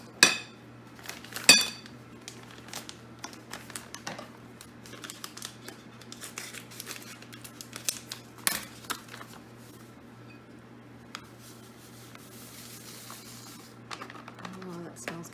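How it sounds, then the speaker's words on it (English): Batter for a gluten-free pumpkin spice loaf is mixed in a bowl, making close, intermittent clinks, taps and scrapes of a utensil against the bowl. "I'm gonna give this a good mix before I add in my package"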